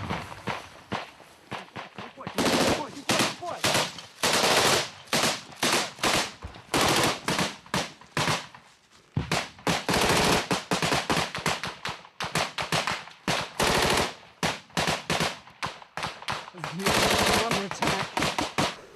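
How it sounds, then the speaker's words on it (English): Gunfire in a combat zone in Ukraine rings out in rapid automatic bursts and sharp single cracks, loud and close, repeating in uneven clusters, with voices at times beneath the shooting. "A grenade's fired into the tree line from where the Russians were firing."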